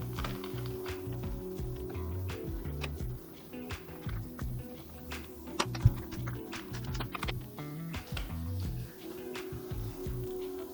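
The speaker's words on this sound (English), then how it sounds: "put the screws back in." Screws being driven back in to fix the armrest onto a Green Soul Zodiac-Pro gaming chair, heard as a steady run of small clicks, ratchets and metallic taps up close, with no talking.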